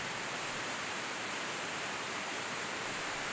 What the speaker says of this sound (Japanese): 落差120メートル、幅73メートルの滝で岩壁を四段に落下することから、別名四度の滝